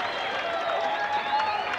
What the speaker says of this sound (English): the crowd complimenting Annesley on his decision this time